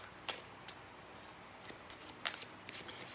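A deck of playing cards is shuffled by hand up close during a close-up magic routine, with quiet riffling bursts and soft flicks at irregular intervals.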